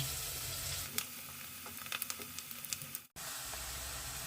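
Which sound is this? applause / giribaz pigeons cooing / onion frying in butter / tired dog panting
onion frying in butter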